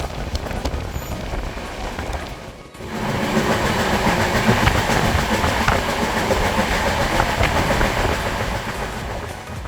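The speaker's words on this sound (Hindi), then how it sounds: "ट्रेन तेज रफ्तार से भागते हुए टाइम से पहुंच गई रांची" Rajdhani Express train running at high speed, a loud steady rumble of wheels and carriage noise heard from inside, with rhythmic clatter continuing throughout.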